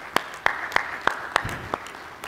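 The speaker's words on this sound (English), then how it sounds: "Please, more applause." Audience applause for four volunteers brought to the front, a steady wash of clapping with a few sharp individual claps standing out at regular intervals.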